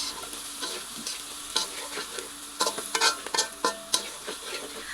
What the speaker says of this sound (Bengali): ডিমটা যখন ভাজতেছি তার সাথে পেঁয়াজ, কাঁচামরিচ, হলুদের গুঁড়ো, মরিচের গুঁড়ো দিয়ে জাস্ট এভাবেই একদম নর্মালভাবে হচ্ছে একটু ভাজা ভাজা করে নিব